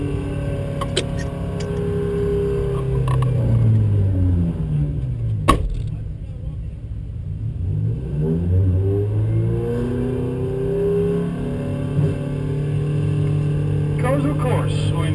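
Thunder race cars lapping the Road Atlanta circuit during a 30-minute timed race, engines droning loudly and steadily with cars passing by, pitch sweeping as they approach and recede.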